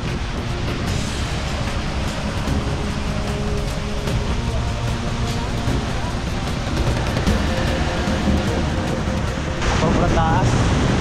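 Hulugan Falls, a tall waterfall in Laguna, roars steadily up close from its base, a loud continuous rush of falling water; someone speaks over it.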